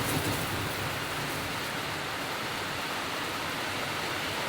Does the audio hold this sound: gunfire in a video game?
no